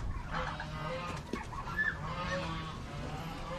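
Ducks and other poultry on a farm raised for egg laying, calling and clucking in a busy, continuous chorus at close range, with a few sharper calls standing out and no talk.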